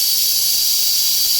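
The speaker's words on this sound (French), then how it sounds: "Donc je laisse tomber un peu la vapeur, là, vous voyez." Steam hissing from the regulator of an RC model steam engine built to Malcolm Beak plans: a loud, steady, continuous bright hiss with no break, heard alone.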